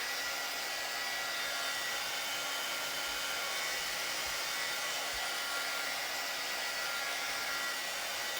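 A hair dryer runs steadily at close range to dry a freshly made Club Couture banner, a constant loud airy whoosh with no breaks.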